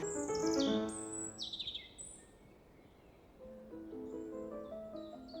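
A magnificent frigatebird calls in a run of chirps and whistling, descending notes. A second burst of calls follows after a brief lull, with rustling in the background.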